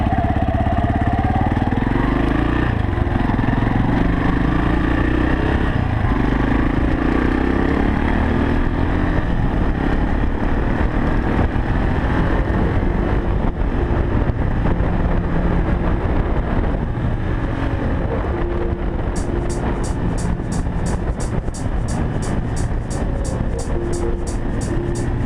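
A Viper V250VXR / Irbis XR250 motorcycle ridden on slightly damp asphalt, its engine droning steadily and loud throughout with continuous rumble and wind noise, no talk.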